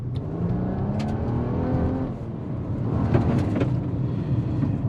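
A Nissan Maxima pulls away on a wet road, engine note rising steadily through a gear then climbing again, a smooth continuous hum heard from inside the cabin.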